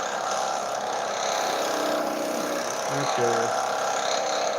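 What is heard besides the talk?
wood lathe turning a Christmas ornament at low RPM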